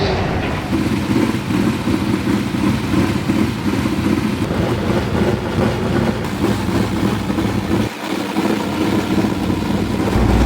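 Dirt track race car engines warm up before hot laps at a dirt race, a loud continuous rumbling drone of several engines that holds steady throughout with a brief dip near the end.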